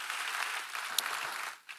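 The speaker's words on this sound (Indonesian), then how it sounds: "Berikan tepuk tangan kita untuk Tuhan kita." A church congregation applauds during a sermon, a dense, even clatter of many hands that holds steady and then fades out, with no voices over it.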